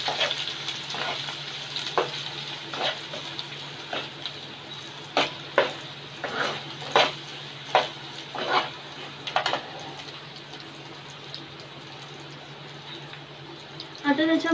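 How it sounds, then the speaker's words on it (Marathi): Chopped onion fries in oil for a Konkani-style egg curry while being stirred until golden brown, giving a steady sizzle broken by a run of spatula scrapes and clicks in the middle, fairly close and with no talk. "हा कांदा पण आपण व्यवस्थित परतून घेऊया, चांगला गोल्डन ब्राऊन होईपर्यंत"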